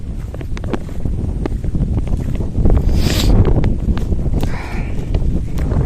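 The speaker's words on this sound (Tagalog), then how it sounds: "Lakas ng hangin." Strong wind buffets the microphone in a continuous low roar, with gusts swelling midway and occasional knocks and rattles underneath.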